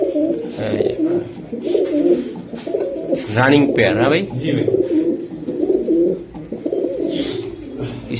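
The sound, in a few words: pigeons cooing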